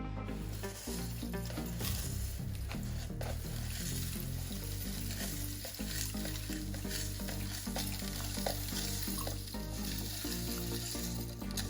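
Potassium hydroxide lye solution for black soap sizzles and bubbles vigorously and continuously, close by, with a low rumbling churn beneath the hiss.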